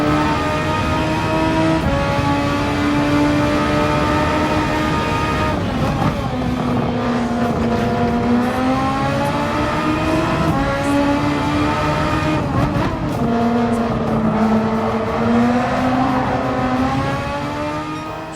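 Race car in Gran Turismo 7 at Watkins Glen, its engine whine climbing in pitch through long pulls, with a couple of gear shifts, loud and continuous throughout.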